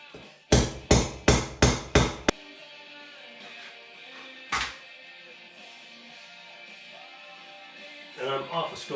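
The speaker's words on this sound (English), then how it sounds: "Make sure you use a proper hammer." During a combi boiler installation, a hammer lands five sharp, evenly spaced blows up close, followed after a pause by a single strike, then a person speaks.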